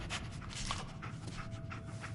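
The dog Dogmeat in Fallout 4 panting, quick rhythmic breaths close by and at moderate volume, repeating steadily with no voices.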